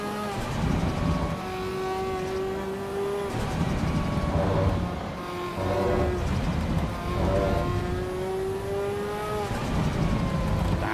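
A turbocharged car in the Assetto Corsa Evo racing game revs hard through the gears, its engine note climbing, dropping at each shift and climbing again, loud and continuous with faint background noise.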